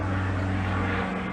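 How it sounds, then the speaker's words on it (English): Propeller training plane passing overhead near Rocky Mountain Metropolitan Airport, a loud steady engine drone that stays close throughout the short stretch, with no talk. "the early morning sound of an occasional plane overhead"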